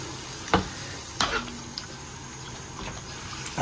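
Homemade spicy hot pot with tripe, bean sprouts and tofu skin being stirred in a pot, a few distinct scraping strokes over a soft, continuous simmering hiss.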